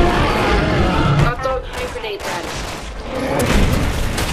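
Rapid gunfire bursts in the Resident Evil 6 video game during Chris's campaign, dense and continuous shooting with booming impacts, layered under excited speech.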